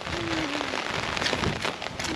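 Steady rain falling in cold weather, a dense continuous patter filling the background with scattered louder drops throughout, and no speech heard.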